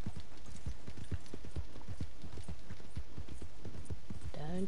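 Horse hooves clip-clop on the ground in Red Dead Redemption 2, a steady, moderately loud rhythmic trot with no voices over it.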